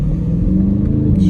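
A widebody Dodge Scat Pack sliding through a corner in the rain gives a loud, throbbing engine roar with shifting pitch, close and continuous over a short stretch.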